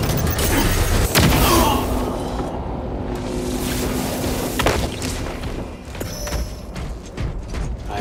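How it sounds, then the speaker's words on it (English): A frag grenade detonates in the Space Marine 2 video game during a player-versus-player match, giving a sharp, loud blast. A second deep boom follows a few seconds later amid rumbling, clanking battle noise. "Releasing frag grenade!"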